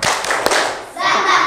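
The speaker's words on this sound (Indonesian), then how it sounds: "Oke, tepuk semangat." A classroom of children doing a rhythmic spirit clap, a few loud close hand claps and thumps in quick pattern, with children's voices chanting between them.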